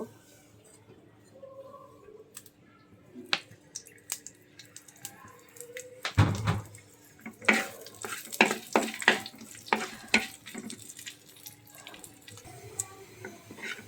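Sliced onions frying in oil in a pan, a soft sizzle that grows busier and louder partway through with clattering stirring, while a person talks intermittently.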